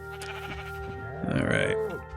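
A sheep bleats in Minecraft, one drawn-out wavering call rising over steady background game music.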